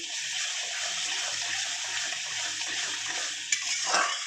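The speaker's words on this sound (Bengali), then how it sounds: "আমি পাশে গরম জল বসানো ছিল দিয়ে দিচ্ছি" Hot water pours steadily into a pan of Bengali katla fish kalia curry, already holding yogurt, poppy seed paste and eggplant, giving a continuous watery rush with a brief splashy surge near the end; no voices.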